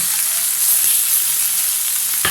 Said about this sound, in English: just let it sizzle there